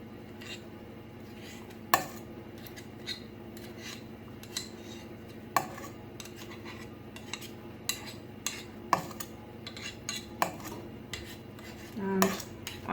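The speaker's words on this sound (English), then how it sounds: "I always scrape my beater as clean as I can get it" A mixer beater scraped clean in a bowl of bun batter, giving repeated sharp metallic clinks and scrapes against the bowl at an irregular pace, close and fairly quiet with no talking.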